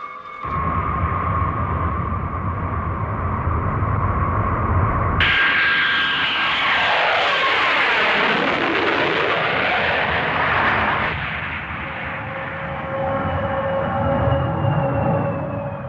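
Airliner engines roar loudly and continuously as the plane lands at Hong Kong, with a sharp shift in pitch partway through and sweeping whine tones before the noise eases slightly.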